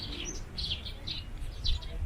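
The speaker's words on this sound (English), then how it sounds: "heard the birds gather in the trees" Birds chirp in the trees of Nara deer park in Japan, a series of short high tweets repeating over a low outdoor rumble.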